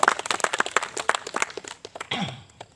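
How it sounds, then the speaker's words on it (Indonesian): A church congregation claps in a burst of sharp, uneven applause that thins out over a few seconds, followed by a brief murmur. "Ya, tepuk tangan sekali bagi dia."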